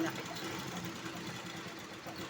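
A sewing machine runs steadily through a double line of stitching on a computer-embroidered cut-work blouse, giving a continuous mid-level mechanical hum and rattle with no pauses.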